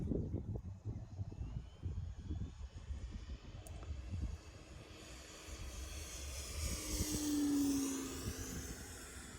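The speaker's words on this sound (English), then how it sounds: "Let's do a flyby and then we'll do some landings." A radio-controlled tailwheel airplane makes a flyby. Its engine drones steadily, then swells louder and shifts in pitch as it passes closest near the end, over outdoor background noise.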